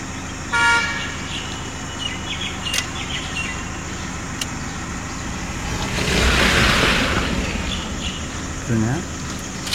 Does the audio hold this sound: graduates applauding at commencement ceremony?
no